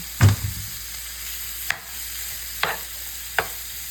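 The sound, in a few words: food browning in a pan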